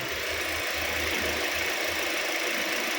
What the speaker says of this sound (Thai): เดี๋ยวเรามาฟังเสียงเครื่องกันดู